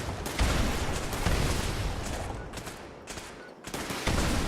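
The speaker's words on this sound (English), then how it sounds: "They are blowing up their own camp." Gunfire and explosions at a player camp in Fallout 76, probably from turrets, come as dense, loud bursts of rapid shots and blasts that briefly drop away before resuming.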